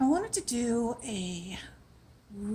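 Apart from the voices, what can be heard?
None of the usual background noises is heard.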